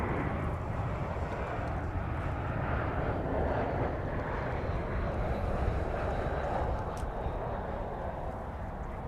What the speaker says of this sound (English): It's American Flight 1523 from Denver, Colorado. An Airbus A321.